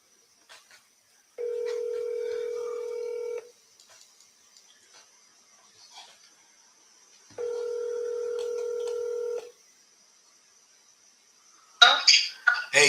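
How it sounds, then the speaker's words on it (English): A cell phone places a call: faint keypad clicks, then two long steady ringback tones separated by a pause, followed by a burst of louder noise at the end. "let's call them on my cell phone"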